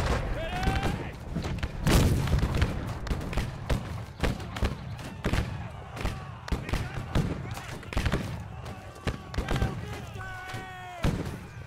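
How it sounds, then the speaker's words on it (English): Cannon and rifle fire in the Civil War battle game Battle Cry of Freedom: dense, rapid booms and sharp cracks crowd one another throughout, loud and continuous, with shouting voices mixed in. "that cannon should be way above me"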